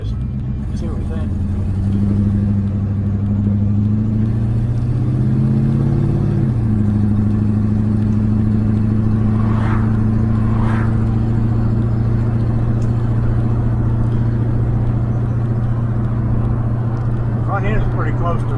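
A 1961 Chrysler Newport, its brakes freshly freed up, drives up the road with a steady, close engine drone; the pitch shifts briefly early on before settling into an even hum with faint clatter.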